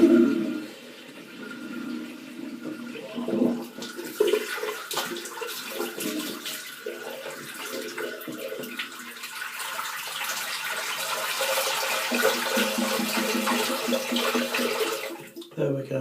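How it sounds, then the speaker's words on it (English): Water rushing and gurgling as a bathroom sink drains, a steady loud wash of flowing water lasting throughout, with a brief voice near the start. "I really want to drain the water out of the sink and get a good wash to get this off."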